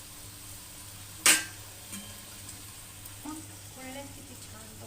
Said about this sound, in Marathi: पुऱ्या आता मी फ्राय करून घेते